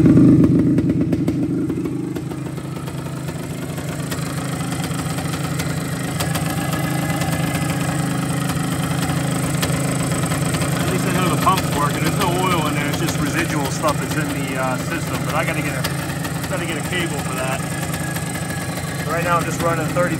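A 1974 Yamaha DT360A two-stroke motorcycle running 32:1 premix idles steadily close by, a continuous mid-pitched buzzing putter with light mechanical clatter, and a voice speaks partway through.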